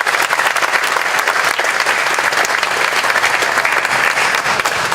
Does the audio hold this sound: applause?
yes